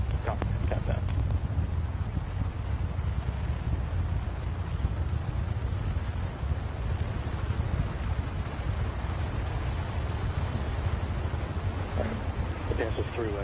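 The NASA SLS rocket core stage, with four engines firing during a hot fire static test, makes a steady, broadband roar heard from a distance. Faint radio voices come through at moments.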